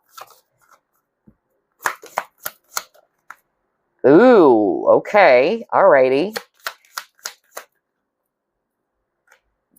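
A deck of tarot cards is shuffled and handled in scattered crisp riffles and taps, with a short burst of talking in the middle.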